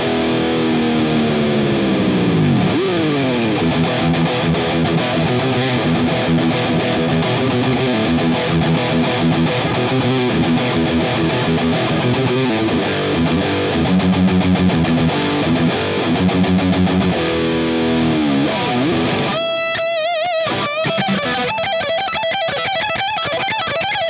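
Heavily distorted electric guitar in a classic, heavy and thrash metal style rings out loud and alone, with chugging riffs and sliding chords that give way to a sharper, choppier rhythmic passage near the end.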